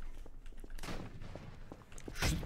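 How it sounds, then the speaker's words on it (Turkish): Ship cannon fire in the game Garry's Mod, several booming shots and cracks scattered over a busy background, with a heavy blast near the end, fairly loud and without talk. "Top atışını tutuyor bizi."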